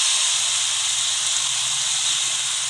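Paratha batter sizzling in a lightly oiled pan, a loud, steady broadband hiss that continues unbroken with no talking.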